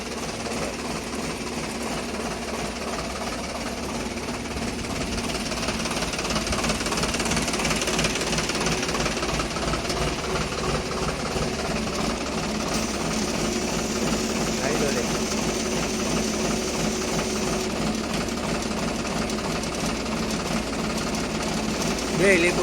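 A Sonalika DI 740 tractor engine runs continuously with a steady diesel chugging and knocking rhythm throughout, while someone talks over it.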